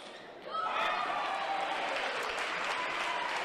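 A home crowd bursts into sustained applause for a New York table tennis player at the ITTF America Cup, clapping rising sharply after half a second and holding dense and loud, with faint voices mixed in.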